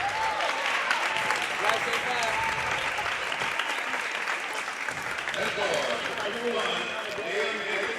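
Crowd noise fills a junior high boys basketball gym during a Casey-Westfield versus Mount Vernon game, a dense steady roar of cheering and clapping with voices mixed in throughout.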